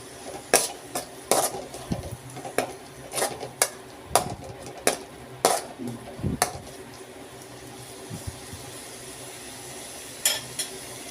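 Spices being stirred with potato and paneer in a cooking pan, a spoon scraping and clinking against the metal in irregular strokes, close and moderately loud, with no talking.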